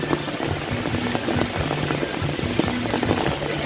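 Steady rain falls close by, a dense patter of drops spattering on surfaces, with a faint low hum running underneath.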